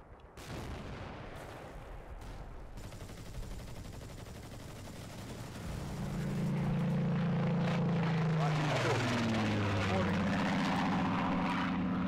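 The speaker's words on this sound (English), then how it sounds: "Plane's having another go at something." A propeller warplane in a World War II combat game, Combat Mission Final Blitzkrieg, drones in over distant gunfire, swelling into a loud, close engine roar with shifting pitch.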